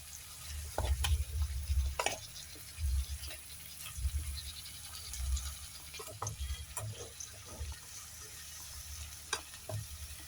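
Food being stirred and sautéed in a pan for Alexandrian sodaq, soft sizzling under repeated scraping and clinking stir strokes with low thumps, no speech.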